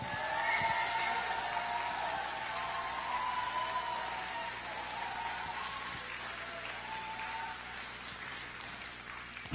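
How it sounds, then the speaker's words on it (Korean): An outdoor audience applauds a children's performance at the Yeosu Marching Festival in South Korea, steady moderate clapping from a crowd, fairly distant, gradually tapering. "박수는 많이 치시면 치실수록 좋아요."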